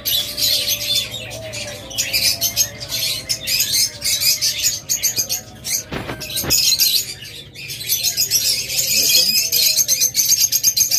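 A pair of cockatiels calls repeatedly in bursts of high, shrill chirps and squawks, close and fairly loud, with a couple of sharp knocks partway through and some background noise.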